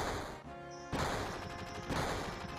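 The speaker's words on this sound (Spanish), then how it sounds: "Bueno, es evidente que son disparos." Gunfire in the Final Fantasy VII video game, a few loud, harsh bursts of shots and crashes in quick succession that come without any talk over them.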